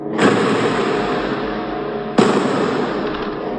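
Two heavy explosions around Al-Shifa hospital during a gun battle, each a loud sudden boom followed by a long rumbling decay, the second striking about two seconds after the first.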